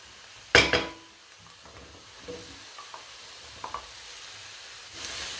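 Mushrooms and a garlic clove drop into a hot pan with a sharp sizzling burst, then settle into a quieter, steady frying hiss with a few small clinks of stirring.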